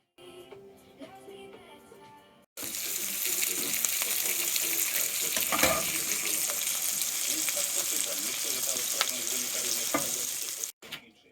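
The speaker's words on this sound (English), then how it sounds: "We're gonna stick those on the die-cast pan on the wood stove" Steaks sear loudly in a die-cast pan on a wood stove, a dense steady sizzle that jumps in after a quiet stretch and holds close and strong before cutting off at the end.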